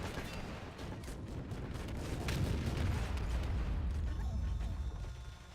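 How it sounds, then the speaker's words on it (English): Heavy cannon fire in the Arma 2 Huaji mod booms with deep, rolling blasts that swell and then fade over several seconds, loud and unaccompanied by speech. "Oh my god, it's a cannon!"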